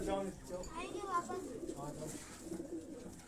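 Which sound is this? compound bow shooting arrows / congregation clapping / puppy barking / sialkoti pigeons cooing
sialkoti pigeons cooing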